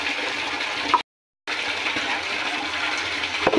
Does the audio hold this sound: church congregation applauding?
no